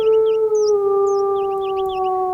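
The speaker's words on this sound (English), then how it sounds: "You could even change what type of howl you have." A wolf in WolfQuest 2.7 gives one long, clear, sustained howl, loud and close with a slight downward drift in pitch, heard alone apart from faint chirping in the background.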